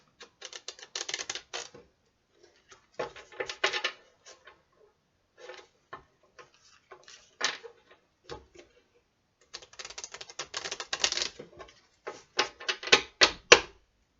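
Tarot cards being shuffled by hand, close and crisp, in irregular bursts of rapid riffling clicks with silent pauses between, growing busier toward the end.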